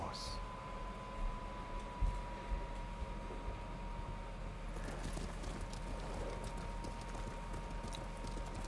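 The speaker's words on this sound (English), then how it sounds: "Get on my horse." A horse in the video game Ghost of Tsushima gallops with a steady, muffled clip-clop of hooves under low game ambience and music.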